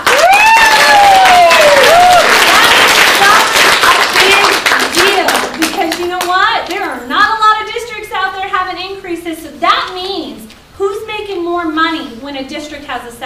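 A rally crowd bursts into dense applause and cheering, loud and sustained for several seconds. It then thins to scattered claps as a voice begins speaking over it.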